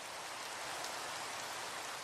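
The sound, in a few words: rain in an animated short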